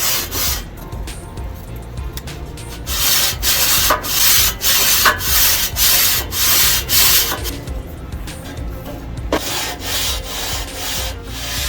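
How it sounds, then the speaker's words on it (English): A grill screen and scraper scrub hard along the edges of a hot Blackstone griddle, making loud rhythmic abrasive strokes with brief pauses and occasional sharp scrapes, up close. "you might have to use your scraper to pick up that grill screen, but I like to put it up against here, scrub the edges"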